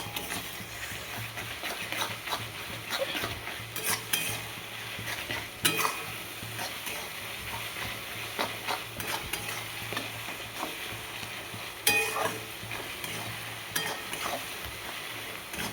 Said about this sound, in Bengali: রসুনটাকে এখন বেশ করে কষাবো